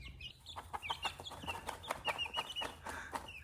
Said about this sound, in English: You might think this chicken's going crazy, but this is what they do to clean themselves, actually.